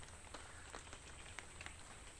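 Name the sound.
rain falling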